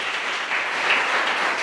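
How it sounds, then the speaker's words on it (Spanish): A church congregation applauds during a Sunday service, a short burst of even, dense clapping. "Bríndele un fuerte aplauso a nuestro Señor."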